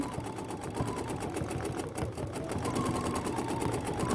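A BERNINA sewing machine with a stitch regulator runs steadily under foot-pedal control, a fast, even mechanical whirr of needle strokes, close and continuous throughout.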